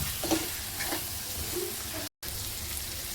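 Cauliflower, potato and peas stirred and frying in a pan with ground roasted peanuts, a steady close sizzle with a few scraping strokes of the spoon, no voices.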